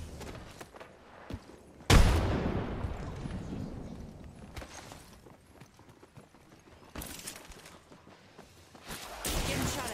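A frag grenade explodes in the video game Apex Legends: one sudden loud blast with a long rumbling decay, followed by scattered gameplay noises and bursts.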